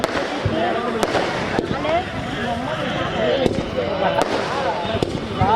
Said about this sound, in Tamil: இந்த சிறப்பான ஒரு வான வேடிக்கையை அனைவரும் கண்டுகளிக்குமாறு அன்போடு கேட்டுக்கொள்கிறோம்